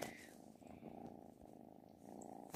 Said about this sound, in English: Sorry if you hear purring, that's my cat.